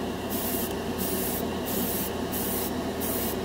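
An airbrush sprays Vallejo Mecha Color yellow paint onto a scale model in steady hissing bursts, about six pulses with short gaps between them, close and even, with no talking.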